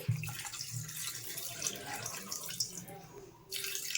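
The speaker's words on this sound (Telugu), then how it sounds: "ఇప్పుడు మనం నీళ్ళు అయితే వేసుకోవాలండి" Water runs and splashes steadily into a cooking pot of mutton, a continuous pouring hiss with a brief surge near the end, with faint low hum underneath.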